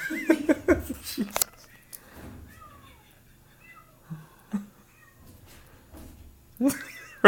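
A newly arrived kitty meows loudly in short bursts, close by, with a resident cat nearby, and people talk and laugh softly between the cries.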